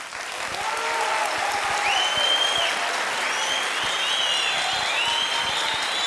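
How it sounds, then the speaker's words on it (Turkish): A television studio audience applauds a painting during a live comedy talk show, producing dense, sustained clapping that holds at a steady, loud level, with a few whistles and cheers rising above the crowd. "İlker'in resmini alkışlayanlar buyurun"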